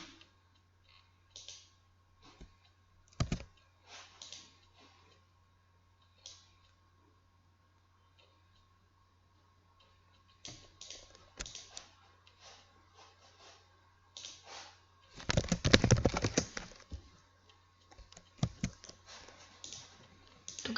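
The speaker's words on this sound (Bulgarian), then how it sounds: "ето пишем reload и се логваме" Typing on a computer keyboard, with scattered clusters of light key clicks, long quiet pauses and a dense rapid flurry of keystrokes near the end, close and fairly faint.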